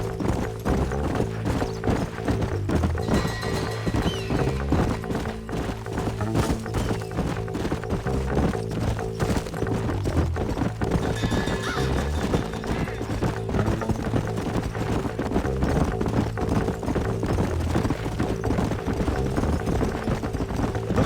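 Horses' hooves clip-clop steadily in the Western video game Red Dead Redemption, a dense, continuous rhythm of several riders moving together, loud and close, with a brief whinny and no talk.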